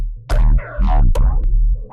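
Short, punchy synthesized bass notes, three or four deep wobbling hits with growling upper harmonics, loud and alone.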